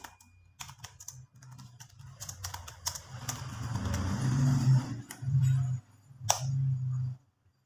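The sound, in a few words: typing on a computer keyboard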